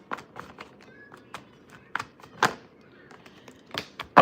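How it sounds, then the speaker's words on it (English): A deck of tarot cards is shuffled by hand in a quiet room, giving a series of soft, irregular riffling taps and flicks with brief pauses between bursts. "One more shuffle."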